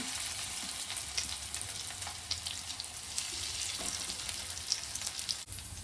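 Steady crackling sizzle of chicken pakoras frying in shallow oil on a flat pan, with scattered pops and a faint clink partway through; no voices.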